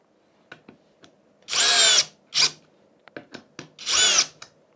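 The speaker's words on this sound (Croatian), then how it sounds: "Prebacujem na režim za bušenje u prvoj brzini." A Parkside Performance PBSPA 12 C3 12V cordless drill runs in drilling mode in first gear, giving two loud, steady whirring bursts of about half a second each, with shorter clicks and brief blips between them, close up.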